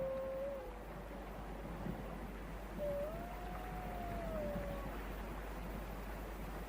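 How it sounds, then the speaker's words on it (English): Arctic wolves howling across open tundra, two long rising-and-falling howls, the first brief and the second sustained for about two seconds, faint and distant over steady wind noise. "The pack is spread out, but keeps in touch by howling from time to time."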